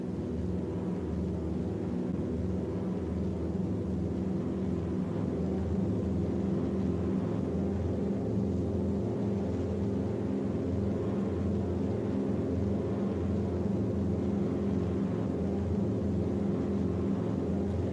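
WWII bomber planes fly overhead in the Memphis Belle film, a steady low droning rumble of propeller engines that holds at an even, moderate level throughout, with no voices.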